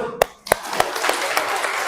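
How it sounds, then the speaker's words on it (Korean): Scattered hand claps from a church congregation, a few distinct sharp claps building into a light ragged patter, close and moderately loud. "박수!"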